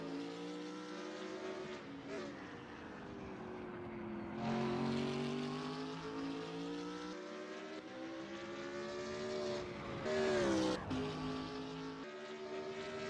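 GT3 race cars, including a BMW Z4, roar around the Snetterton circuit in a sim racing game, with loud, continuous engine notes rising and falling through gear changes and several cars passing close.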